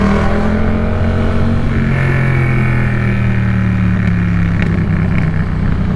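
City traffic in Cebu rolls past a rider on a Yamaha MT-07 motorcycle, a loud, steady engine drone with passing vehicle rumble and wind, no talk.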